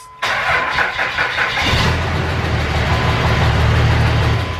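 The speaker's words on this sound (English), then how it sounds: "it should crank over a lot faster" A Cummins diesel truck engine with weak-sounding batteries cranks over with a rapid, labored starter rhythm, then catches and settles into a steady, loud idle rumble.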